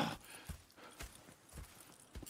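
Horse hooves clip-clopping in the video game Red Dead Redemption 2, a steady walking rhythm of soft thuds at moderate distance with faint ambient background and no talking.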